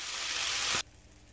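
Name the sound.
sausages sizzling in a frying pan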